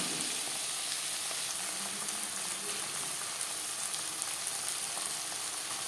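Chopped tomatoes and a large chopped onion frying in oil for a Bengali-style fish curry, a steady even sizzle that stays soft and continuous throughout, with no voices.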